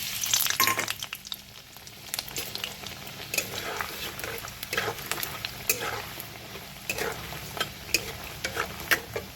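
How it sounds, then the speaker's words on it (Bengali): Lentil dumplings (bori) frying in hot mustard oil, a steady close sizzle with repeated scraping and stirring clatters from a spatula in the pan. "প্রথমে আমি বড়িটাকে ভেজে দিলাম"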